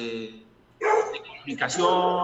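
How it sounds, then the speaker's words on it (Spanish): Dogs bark outdoors in the background, muffled and intermittent, beneath someone speaking Spanish close to the microphone. "No sé si se escuchan mis perros, están ladrando afuera"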